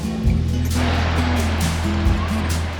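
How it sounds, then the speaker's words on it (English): Blue River in Breckenridge, Colorado rushing steadily along the Riverwalk, a continuous broadband flow beneath a person talking nearby. "So the river here is the Blue River"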